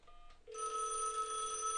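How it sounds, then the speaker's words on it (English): Telephone line tone after dialing 911 on a Cisco voice lab phone: a steady, moderately quiet tone that starts abruptly and holds, with no talk. "So I'm going to pick this phone up and dial 911."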